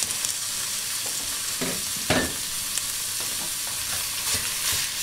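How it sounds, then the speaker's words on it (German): Minced meat frying in a pan with vegetables for spaghetti Bolognese, a steady close sizzle broken by several scraping stirs. "Das lassen wir auch kurz ein bisschen anbraten."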